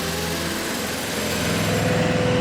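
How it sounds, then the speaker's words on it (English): A small engine used to drive a fiber cable reel runs steadily and then rises in pitch as the throttle opens, loud and close with no talking. "start our motor, take the throttle just a little off the bottom, fire up our engine"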